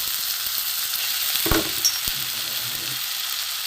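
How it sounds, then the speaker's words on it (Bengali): Grated boiled potato frying in a pan over onion, tomato and garlic, a steady close hiss of sizzling oil with a brief stirring clatter partway through. "এটা একটু ভেজে নেব"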